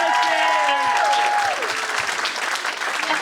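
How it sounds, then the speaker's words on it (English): A gala audience applauds with dense, sustained clapping that fills the room, while a voice talks over the start before the clapping carries on alone. "Round of applause for Dan."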